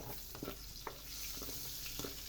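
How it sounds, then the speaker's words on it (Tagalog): Onions sizzle and fry in a pan as the base for monggo, a soft steady crackle with a few faint stirring clicks, quiet and close. "Pwede na rin natin isunod ang ating sibuyas."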